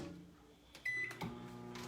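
Microwave oven running in a kitchen during a cooking demonstration, a faint low hum with a short electronic beep and soft clicks, quiet and close.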